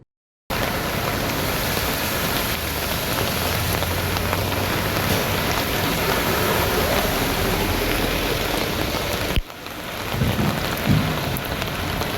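Heavy monsoon rain with thunder over a waterlogged road, a dense continuous roar of downpour with low rumbles, loud and unbroken for several seconds, with no voices.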